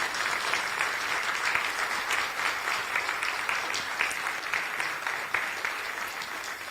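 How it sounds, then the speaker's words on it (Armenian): An audience at a formal event applauds warmly to see off an ambassador, dense steady clapping from many hands that carries on for several seconds without a break. "մեր լսարանը ջերմ ծափողջություններով ճանապարհի դեսպանին"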